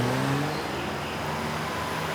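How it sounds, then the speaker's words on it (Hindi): A car engine rises in pitch and then settles into a steady drone over constant traffic noise on a street in Chandigarh, fairly loud and close, with no one speaking. "गाड़ी की आवाज"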